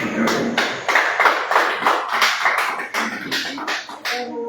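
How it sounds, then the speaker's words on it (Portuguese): A church congregation claps in a steady, rhythmic series of sharp hand claps at close range, carrying on for several seconds with a little voice mixed in. "Sempre dá as palmas para Jesus."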